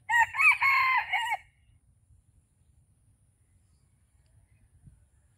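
A rooster gives one loud, clear crow lasting over a second, then the scene falls almost silent apart from faint low rustling.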